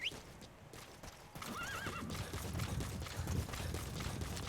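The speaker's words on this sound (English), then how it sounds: "I was just trying to call my horse." Horse whinnying when called in the video game Death Stranding, a high rising neigh followed by a busy stretch of clip-clopping hooves and rushing ambient noise, fairly close and loud.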